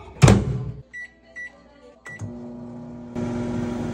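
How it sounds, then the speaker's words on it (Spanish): A microwave oven with a corn cob wrapped in paper napkins: a door clunk, a few short keypad beeps, then the oven starts and hums steadily, close by with no talking. "Ahora vámonos para el microondas por 3 minutos."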